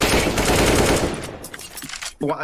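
Rapid automatic gunfire from a rifle in the shooter game CS:GO, with loud continuous bursts for about two seconds, then a brief pause and a final short burst.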